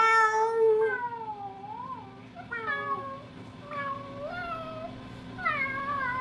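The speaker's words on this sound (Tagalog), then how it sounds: "Nagustuhan niyo po ba yung mga pusa?" Several cats meow repeatedly, their cries rising and falling in pitch, close and distinct over a steady low room hum, with a brief faint voice nearby.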